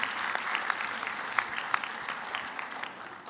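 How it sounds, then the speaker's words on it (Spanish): A crowd applauds steadily at a government press conference in Mexico, a dense wash of many hands clapping at a fairly even level with a few sharper claps standing out. "Un aplauso para la maestra Leticia Ramírez."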